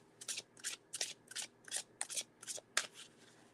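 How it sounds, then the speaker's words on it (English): A deck of tarot cards being riffle-shuffled in about eight quick, crisp bursts, close and fairly quiet with no talk. "And they shuffle very nicely too."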